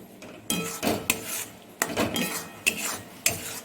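Spices with turmeric being sautéed in a pan, a metal spoon scraping and clanking against the pan in repeated stirring strokes, close and fairly loud with a faint sizzle underneath.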